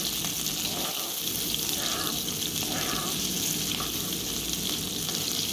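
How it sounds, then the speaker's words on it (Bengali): Chopped onions frying in mustard oil for a Chittagong-style dal, a steady broadband sizzle running throughout at close range with occasional stirring, no speech. "সরিষার তেলে পেঁয়াজ কুচি দিয়ে ভালো করে পেঁয়াজ কুচিগুলোকে ব্রাউন করে ভেজে নেব"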